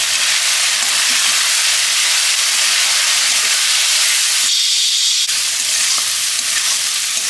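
Chili powder and spices frying in a pan for a fish curry, a dense, loud, continuous sizzling hiss close up, with a brief dip partway through.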